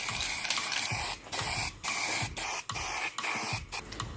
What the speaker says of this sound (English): first I need to spray paint it white.